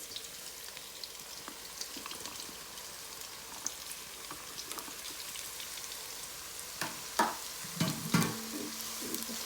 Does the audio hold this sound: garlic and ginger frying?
yes